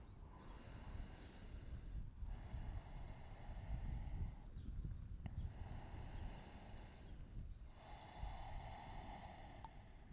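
Slow, deep breaths during a short yoga session: three long, airy exhalations spread over about ten seconds, close to the microphone, with brief pauses between them and no talk.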